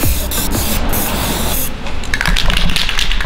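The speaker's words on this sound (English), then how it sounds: "Still got a lot of spray paint." A spray paint can hisses steadily and loudly at close range, painting flames on a Honda, with a slight change in tone partway through.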